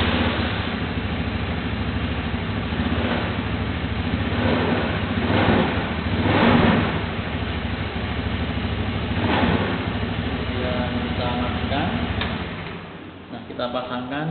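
A car engine warming up before an idle-speed check on an electronic fuel-injection system, running as a steady mid-pitched idle with a couple of brief revs swelling and easing back, close by and continuous.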